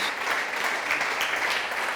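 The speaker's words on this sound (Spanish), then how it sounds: "Dale un aplauso a Él." A church congregation claps steadily for two seconds, a dense, even wash of applause from a large crowd.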